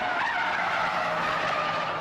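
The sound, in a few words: BMW 535d tyres squealing as the tail slides out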